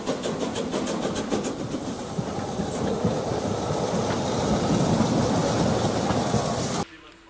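A Stadler Regio Shuttle railcar of the Rügensche Bäderbahn on Rügen runs close by with a dense, steady rumbling roar and faint rhythmic clicking, swelling slightly before cutting off abruptly near the end.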